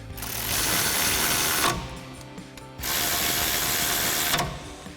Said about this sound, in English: we can tighten these down using our 17 millimeter socket on our ratchet.